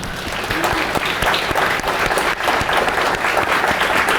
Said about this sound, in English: And rather than applaud me, let's applaud Barry.